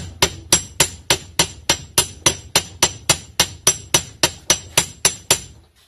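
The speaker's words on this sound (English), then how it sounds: "I'm beating the inner race using this socket, which is a 38mm socket" A hammer strikes a 38mm socket to drive a bearing's inner race on a Mazda H-series transaxle, giving about sixteen sharp metallic taps at a steady, quick rhythm, close and loud with no talking.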